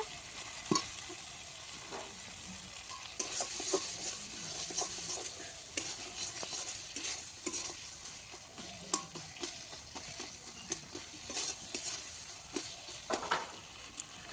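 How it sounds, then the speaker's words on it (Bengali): Tender green peas sautéed in spice paste for a winter cauliflower curry, with a low, continuous sizzle broken by frequent scraping and clicking stirs in the pan. The sound is near and there is no speech. "মটরশুঁটিগুলো মশলার মধ্যে দিয়ে দেবো মশলাগুলো মটরশুঁটিগুলো একটু মশলার সাথে কষিয়ে নেব"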